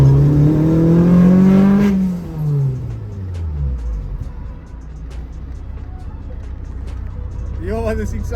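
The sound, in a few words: modified VW Golf VVL engine revving while driving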